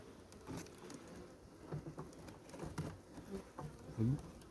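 Honeybees buzz over a hive frame during a full nest inspection, a faint, soft drone under light rustling and scattered clicks as the frames are handled, with occasional louder passes close by.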